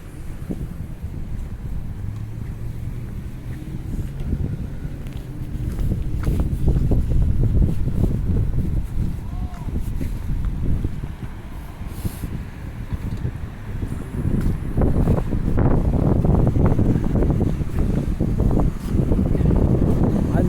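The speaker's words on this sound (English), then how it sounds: "I'm hoping I'll get a little protection from the wind now that there's some buildings around me." Cold wind buffets the microphone on a city street among buildings, a loud, continuous low rumble that surges and eases in gusts throughout, with no voices.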